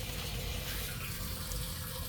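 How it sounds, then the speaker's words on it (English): Gasoline pouring from disconnected fuel lines back into the tank of a 2005 Silverado during a fuel pump job: a continuous, close liquid gush that stays steady throughout, with no voices. "instead of killing the environment with gas, turn these lines to where they're facing up and pour some of that back in the tank"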